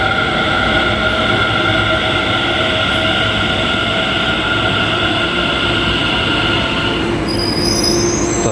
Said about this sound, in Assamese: আমাৰ মেট্ৰ' আহি গ'ল